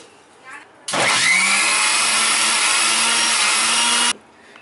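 A kitchen mixer grinder grinds cooked spinach in a loud, continuous, high-pitched whirring burst of about three seconds that starts and stops abruptly, with quiet room sound on either side.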